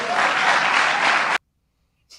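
Applause from a political speech audience, a dense steady wash of clapping that cuts off abruptly, followed by near silence and a brief faint noise at the end.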